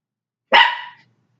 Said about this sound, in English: So the dog's here barking.